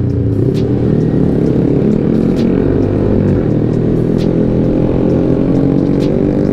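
A Yamaha R15 V3 2020 motorcycle speeds along at a steady, loud engine drone with a buzzy mid-range tone and strong wind rush, heard from the rider's position, with faint clicks on top.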